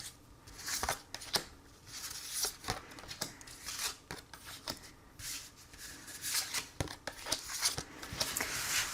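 Tarot-style cards shuffled by hand for a card reading, with close, crisp riffling and flicking in quick irregular bursts, alone without talk.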